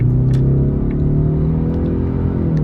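A 2026 Ford Mustang EcoBoost accelerating hard through a corner, its engine droning at a steady pitch from inside the cabin, loud and continuous with faint tire noise.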